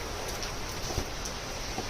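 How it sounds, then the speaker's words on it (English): Steady rain pouring down outdoors, a dense continuous hiss of drops striking surfaces, with a few louder individual splats near the listener and no voices. "It's raining."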